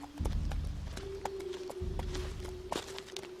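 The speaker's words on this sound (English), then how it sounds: "the mounted horse." Hooves clip-clop in an irregular rhythm with sharp knocks over a low rumbling background, moderately close.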